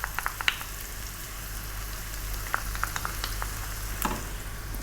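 Tomato paste frying with garlic and ginger in a hot pan for a Bihari chicken curry, a steady close sizzle with faint spattering pops and a few light stirring scrapes, no voices.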